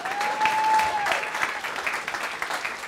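Crowd at a political campaign kickoff rally claps for the candidate, a steady burst of applause from many hands with a brief whistle at the start, fading slightly toward the end.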